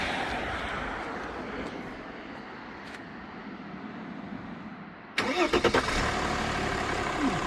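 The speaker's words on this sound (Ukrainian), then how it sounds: "Воно заводиться." A 2003 Mercedes-Benz W211 E320 engine cranks and catches after a quiet stretch, firing with a few loud pulses before it settles into a steady idle, close by with no talking.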